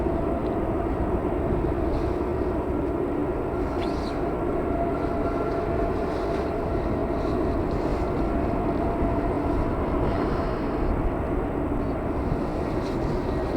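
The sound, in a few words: aircraft at Manchester Airport, British Airways jet heading out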